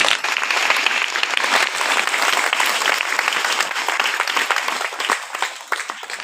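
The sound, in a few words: audience applauding at a sermon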